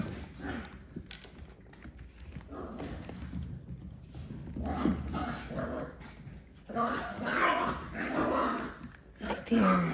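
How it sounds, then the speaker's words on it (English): Puppies of a doodle breed scramble around a home kitchen and dining room, with scattered growls and scuffling paws while people talk over the commotion. "I got puppies running everywhere in my kitchen"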